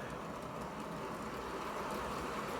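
PIKO model train from a Smart Control set running on its track, a faint steady whirring rumble, alone without talk.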